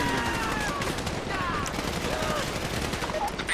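Gunfire in GTA Online: rapid bursts of shots crackle over a busy game soundscape of whooshes and effects, steady and loud across the span, with voices talking over it.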